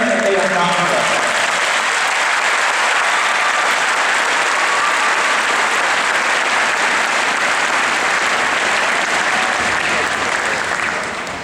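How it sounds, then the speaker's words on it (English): Sustained, dense applause from a graduation audience fills the whole stretch, steady and loud throughout before fading slightly at the very end. "can we please give them all a round of applause for everything that they have done for us?"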